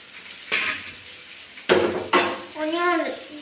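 KFC-style chicken, cooked by a little boy, frying in a pan with a steady close sizzle, broken by three sharp clatters of utensils against the pan and a short voice near the end.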